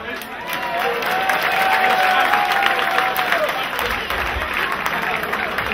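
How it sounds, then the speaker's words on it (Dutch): Audience applause and cheering at the finale of a 2015 pole-sitting contest in the Netherlands, a steady dense clapping crowd throughout with voices mixed in. "Een applaus."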